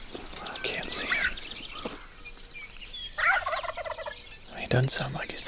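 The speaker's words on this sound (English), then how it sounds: "Oh, there he gobbled." A wild turkey gobbler gobbles from a short distance outdoors, several gobbling bursts breaking through steady birdsong and light ambient noise.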